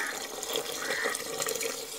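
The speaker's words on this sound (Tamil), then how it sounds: "நல்லா 2 தரம் 3 தரம் அரிசியை அலம்பிக்கணும்." Idli rice is rinsed in water in a kitchen, giving a steady close wash of splashing and running water with no pauses, over about two seconds.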